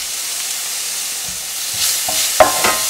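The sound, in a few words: onions sautéing in a pan over medium flame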